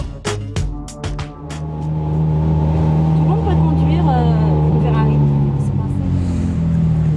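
A Ferrari engine revs in a throttle blip, a few sharp bursts at first, then a sustained, rising and falling drone that stays loud and close.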